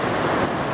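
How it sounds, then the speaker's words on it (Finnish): Lounaskoski river rapids in Rovaniemi, Finland, flowing beneath the highway 4 bridge, roar with a dense, steady rushing wash, loud and continuous for a brief moment. "Lounaskoski kohisee alla nelostien."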